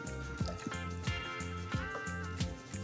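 A liquid pours into an egg mixture with soft, rhythmic dripping and sloshing, close and quiet.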